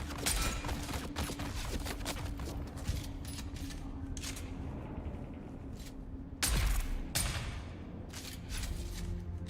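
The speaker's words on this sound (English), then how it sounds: "shooting you with poison triple shot dots" Poison triple-shot gunfire in the Dune Awakening video game, rapid bursts of sharp cracks in quick clusters with a heavier thump near the end, moderately loud over a steady background hum.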